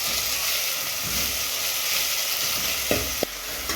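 Onions and tomatoes sizzle steadily in hot oil, a constant close frying hiss with a couple of sharp stirring knocks near the end.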